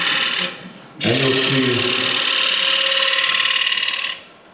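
A ball gouge cuts wood on a lathe, turning a shallow curved profile. A short whirring cut is followed by a longer sustained scraping hum with a rough, buzzing texture, and someone speaks briefly near the start.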